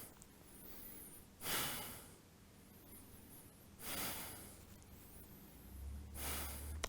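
Three slow, deep breaths taken during a vinyasa flow yoga pose, each a soft rushing inhale or exhale spaced a couple of seconds apart, close and quiet in a still room.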